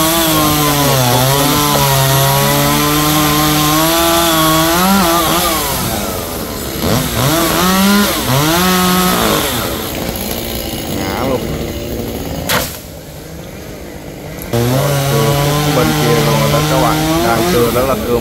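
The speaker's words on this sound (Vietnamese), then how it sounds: "Cái máy cưa đó mình cũng xin nhắc lại là máy cưa Echo Mini nha các bạn." Echo Mini chainsaw cutting through a large kapok tree near power lines, its engine loud and close, revving and bogging in sustained bursts with a short lull before resuming at full throttle.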